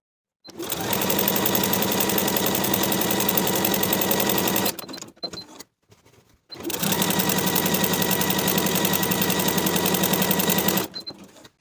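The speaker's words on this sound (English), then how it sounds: "Sew with the longest stitch on your machine." Sewing machine running long gathering stitches on a blouse, two sustained bursts of fast, even mechanical whirring and needle chatter with a short pause between, close and loud.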